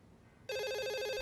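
Telephone in a house starting to ring abruptly after near-silence, a loud, steady electronic ringing tone close by.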